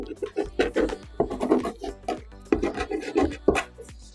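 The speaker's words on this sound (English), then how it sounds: "dig into that layer of gloss medium and just make some marks in here with this screwdriver" A screwdriver scraping and scratching marks into a layer of gloss medium, giving a run of quick, uneven rubbing strokes in bursts, close and fairly soft, with no talking.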